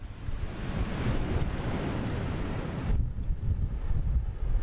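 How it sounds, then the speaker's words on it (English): A Blue Origin New Shepard rocket lifting off in West Texas, a sustained broadband roar that rumbles steadily and then shifts to a deeper, duller tone partway through, with no voices. "a spectacular launch of New Shepard, live from West Texas"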